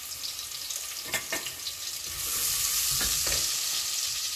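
Onions fry in a pan for Chettinad mutton varuval: a constant oily sizzle swells louder halfway through, with several sharp scrapes and knocks of a spoon stirring close by.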